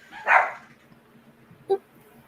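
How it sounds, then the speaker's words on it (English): A dog at home gives a loud bark, then a second shorter bark after a pause, heard from a short distance over a quiet room hum. "my dog just started barking out of nowhere"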